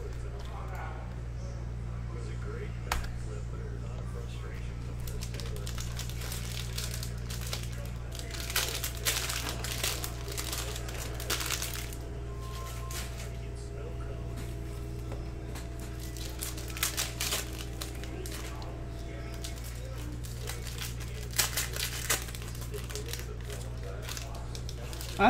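A cello pack of 2019-20 Panini Mosaic basketball cards is torn open and handled, with intermittent crinkling and crackling of plastic wrapper over a steady low hum while someone talks.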